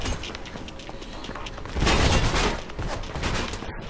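Gunfire in the video game Mirror's Edge comes as a dense burst of rapid, close shots with a louder cluster in the middle, and the volley trails off near the end.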